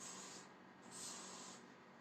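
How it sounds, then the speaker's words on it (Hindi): Shine spray from an aerosol can hissing in two steady bursts during a hair styling session, close and fairly quiet with no talk over it. "Shine spray."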